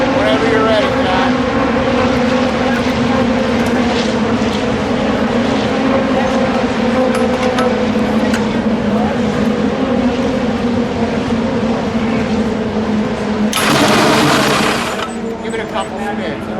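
The engine of a 1971 Brawner McGee Scorpion #64 Indy 500 race car runs loud and close, a steady droning roar held for many seconds with a brief harsher burst near the end, while people talk faintly.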